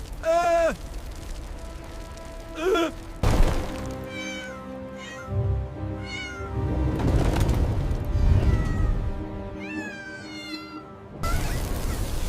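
A small cat meows repeatedly and insistently, its cries close and loud, rising and falling in pitch, while a person talks over parts of it.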